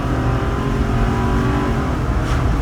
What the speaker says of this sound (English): Hear this engine roar.